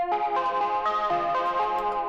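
An overdriven pluck synth preset from the Neum Analog 5 bank, played dry, arpeggiating chords in a bright, buzzy, harmonically rich tone with steady repeated notes and no effects.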